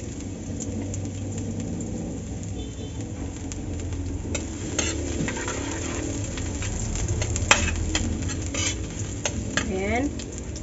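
Five cloves of garlic are sautéed in hot oil while sardines in tamarind soup are cooked, giving a continuous sizzle with occasional scrapes and clinks of a spatula against the pan.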